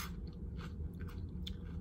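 Close crunching and chewing of barbecue-flavored crunchers snack, quiet, rapid bites with no talking.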